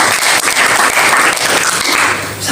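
Loud, sustained applause fills a church service, dense clapping from a congregation with no pauses throughout.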